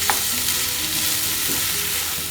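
Chopped tomatoes cook in a pan for shakshuka while being stirred. A continuous close sizzle comes with soft scraping strokes over a couple of seconds.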